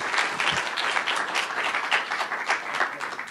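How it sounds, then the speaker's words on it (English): Audience applause at a food robotics and dispensing conference session, a steady dense wash of clapping from a crowd, fairly close and sustained throughout without talk. "Please, big round of applause for Andy."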